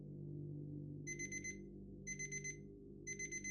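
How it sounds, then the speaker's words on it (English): An alarm clock goes off with three evenly spaced bursts of rapid high electronic beeping over a steady low room hum, with no voices. "Steve's alarm went off at 7 a.m."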